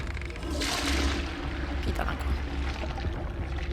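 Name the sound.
toilet flushing in the video game Hogwarts Legacy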